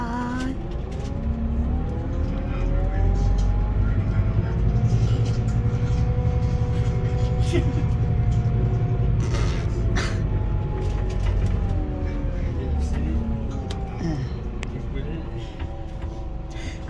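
A car on the road from Leeds to Newcastle gives a steady low engine and road rumble throughout, with talk over it inside the car.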